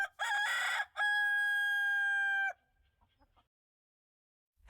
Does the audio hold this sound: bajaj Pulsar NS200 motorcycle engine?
no